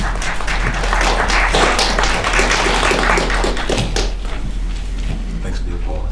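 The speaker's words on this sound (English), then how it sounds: "Thanks for the applause" An audience at a panel discussion on women and men as allies breaks into applause, dense, close clapping that holds steady for several seconds before thinning slightly.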